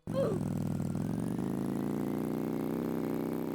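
Moped engine from the Roblox Bloxburg game running steadily at a constant buzzing idle-to-cruise pitch, loud and continuous throughout with no talk over it.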